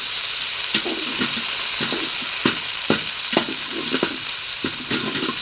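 Ginger, garlic and curry leaves frying in oil, a steady loud sizzle with repeated scraping stirs at an irregular rhythm.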